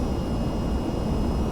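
A jet engine spools up in the VTOL VR flight game, a loud, steady roar filling the whole clip with no break or voice.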